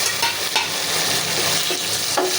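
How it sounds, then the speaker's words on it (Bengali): Onions, browning lightly in hot oil with garam masala and bay leaves, sizzle continuously while a spatula scrapes and stirs the pan in a few strokes, loud and close with no talking. "পেঁয়াজ হালকা ব্রাউন কালার হয়ে আসতেছে এখন দিয়ে দিব গরম মশলা তেজপাতা"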